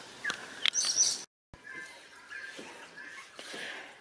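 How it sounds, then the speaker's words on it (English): Pet budgies in their cage, giving brief high chirps and tweets near the start, then softer scattered calls over a low room background after a short gap. "now let's put you on with the budgies."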